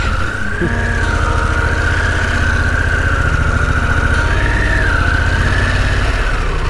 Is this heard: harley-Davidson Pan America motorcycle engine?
yes